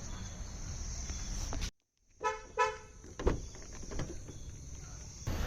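Car driving outdoors with short horn toots, a steady road rumble broken by a sudden drop, then two or three quick tonal honks and scattered knocks before the traffic noise returns.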